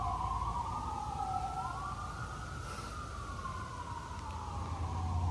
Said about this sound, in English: This city is notorious for police sirens.